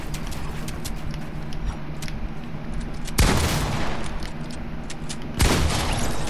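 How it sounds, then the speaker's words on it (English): Gunshots in the video game Fortnite, two loud bursts of gunfire standing out over a steady bed of game background noise. "There go the shots."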